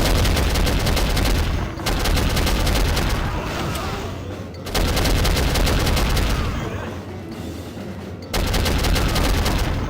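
Gunfire in the PC shooter Soldier of Fortune from 2000: loud, rapid automatic bursts in long sustained volleys, broken by a few brief pauses, close and aggressive.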